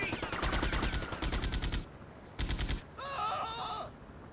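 Rapid bursts of gunfire in GTA: Vice City Stories, loud and close, crackling in quick volleys with short pauses between, followed by a brief higher electronic tone.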